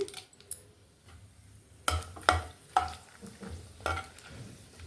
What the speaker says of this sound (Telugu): ఈ ఎండుమిర్చి బాగా ఫ్రై అవ్వాలి